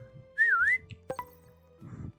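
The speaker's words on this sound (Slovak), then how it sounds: "Kto zapískal?" A single short, bright whistle with a rising-falling pitch sweep sounds during an indoor hide-and-seek game, followed by a couple of sharp clicks and faint rustling.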